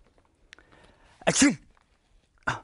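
A single sneeze bursts out loud and close, with a faint second sneeze-like burst following a moment later in an otherwise quiet indoor space.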